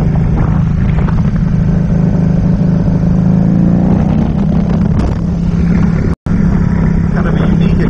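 A 2014 Can-Am Spyder STS three-wheeled motorcycle with an aftermarket exhaust drones loudly and steadily during a ride, engine note rising and falling with throttle amid wind noise, with voices partly under it.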